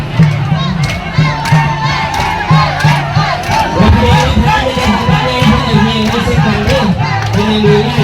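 Loud crowd of supporters cheering and shouting continuously at a Lao village festival, with dense voices, whoops and rhythmic chanting over a steady low pulse, close and filling the whole time.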